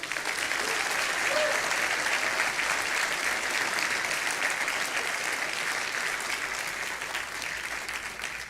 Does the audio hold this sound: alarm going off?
no